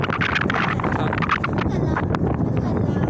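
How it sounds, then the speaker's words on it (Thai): Wind gusts steadily across the microphone on the open-air observation deck of Baiyoke Sky Hotel, a constant rough rumble with someone talking over it. "ลมเย็นสบายนะครับ"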